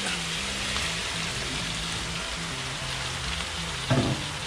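Marinade poured into a hot pan of chicken adobo in coconut milk, giving a steady, close sizzle and bubbling throughout, with a short clink of a utensil near the end.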